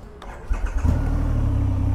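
A 2020 Triumph Rocket 3 motorcycle engine cranks briefly, then catches and settles into a deep, steady idle rumble, loud and nearby with no talking.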